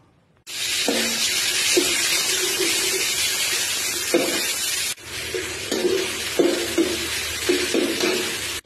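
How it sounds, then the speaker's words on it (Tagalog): Pechay (bok choy) stir-fried in a pan for a simple dinner of minced pork and egg: a steady, close sizzling hiss with a brief break near the middle and soft scraping stirs throughout. "Tapos ito, stir fries lang natin yung pechay."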